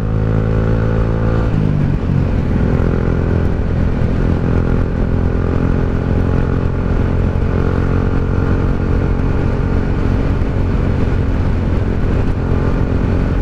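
A 2017 Yamaha Sniper 150 motorcycle in good mechanical condition, white and red, rides steadily with a loud, continuous engine drone that shifts pitch early on and holds a rough, close hum throughout.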